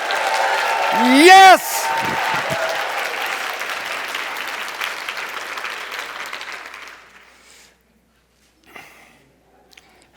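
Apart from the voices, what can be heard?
audience clapping hands, stamping feet and shouting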